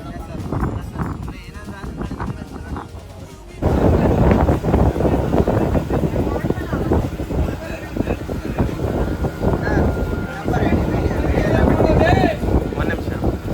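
Motorboat ride near Honnavar and Kumta, with a steady engine drone and water and wind noise that swell louder after a few seconds and continue throughout.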